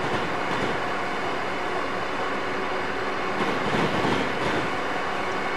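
An Acela Express train in the Train Simulator 2015 game runs at speed toward Washington, a loud, dense, steady rumble and roar with faint rhythmic rail clatter throughout.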